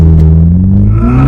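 A 2023 Toyota Supra 2.0 turbo launching hard, engine note loud and close, pitch rising steadily as the car pulls away under heavy throttle.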